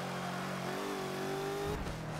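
Bentley GT3 race car engine accelerating on the Hockenheimring in the Forza racing video game, a steady rising whine as revs climb, then a brief shift near the end, with no talk over it.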